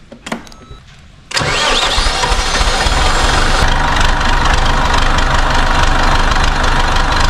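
A farm machine's diesel engine cranks briefly and then catches, roaring into a loud, steady, rough-running idle that holds for several seconds.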